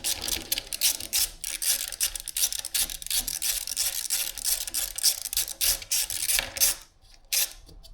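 A 10 mm socket wrench ratchets on a 2008 Rock Shox Reba Race suspension fork during a full service, giving a close, continuous run of rapid clicking and rasping strokes that stop briefly near the end.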